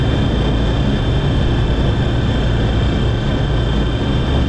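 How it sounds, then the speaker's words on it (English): A Tupolev Tu-114 propeller airliner in Flight Simulator X drones loud and unbroken, its engines giving a dense, harsh roar with a steady whining tone and no talking. "Yeah, the plane does sound kind of angry, doesn't it there, Silent Yuki?"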